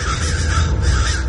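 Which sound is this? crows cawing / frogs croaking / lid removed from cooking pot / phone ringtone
crows cawing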